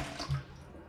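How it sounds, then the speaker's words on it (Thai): Fingerroot (krachai) roots are washed and rubbed one by one in water, giving soft close splashing and wet rubbing, brief and continuous with no talk. "แล้วก็ล้างน้ำให้สะอาดค่ะ ถูกันทีละรากเลยนะคะทีละรากไปอย่างนี้เลยค่ะ"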